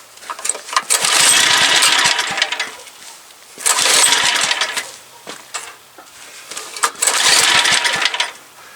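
A Troy-Bilt rototiller's small gas engine is pull-started three times. After each pull it roars for a second or two, then sputters and dies while the choke is held, and between attempts there are quiet clanks.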